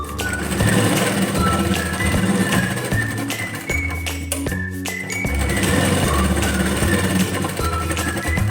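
A sewing machine runs steadily while stitching tucks into an unlined blouse, giving a loud, fast mechanical clatter close by, with a brief slowdown partway through.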